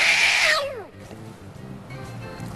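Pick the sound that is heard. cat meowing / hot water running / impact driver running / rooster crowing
cat meowing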